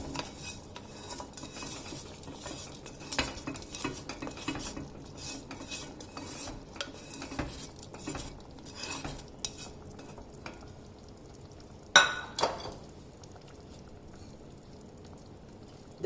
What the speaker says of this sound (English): Add the tempering.